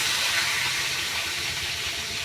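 Rui fish sizzles in hot oil, giving a steady, bright hiss of frying close by with no voices.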